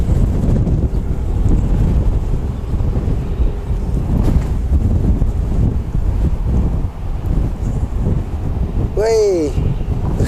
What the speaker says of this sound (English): Especially in today's wind.